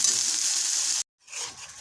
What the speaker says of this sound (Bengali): এখন আমি ইচা শুটকিগুলো দিয়ে দিলাম। শুটকিটা একটু ভেজে পরে মশলা দিয়ে দিব লতির জন্য।